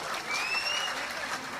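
Audience clapping at a kavi sammelan (Hindi poetry gathering) in Khategaon, a steady dense wash of many hands from a crowd, sustained and fairly loud throughout with no voices over it.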